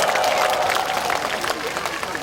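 Festival audience at an outdoor concert in Uiryeong applauding, a steady wash of clapping with some crowd noise and a faint tonal sound running underneath.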